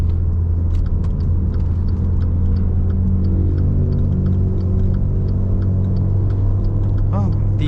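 A 2015 Maserati Ghibli S with its V6 engine pulls along the road in Malaysia, a steady deep rumble and drone filling the cabin throughout, with a slight rise near the end.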